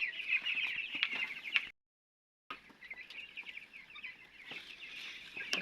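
Young chickens about twelve days old cluck and chirp steadily in a close, busy chorus, breaking off into a short silence before resuming.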